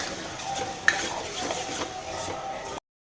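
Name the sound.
stirring pav bhaji vegetables and masala in a pan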